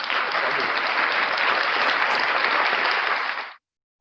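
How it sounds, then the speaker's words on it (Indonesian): Dense, steady applause from a group, close and loud, lasting a few seconds before stopping abruptly into silence. "Tepuk tangan tuh Ari."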